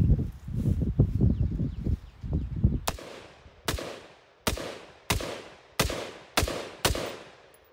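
Seven rifle shots fired with a Breek Arms Castle blast shield, sharp loud cracks at roughly even intervals, each with a short decaying tail, after a stretch of low rustling handling noise.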